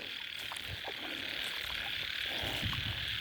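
Frogs croak in the wild during a frog-hunting outing in Thailand's Isan region, a steady chorus of repeated calls over a constant high insect drone, with no voices.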